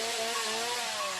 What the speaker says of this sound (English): Chainsaw's chasing me.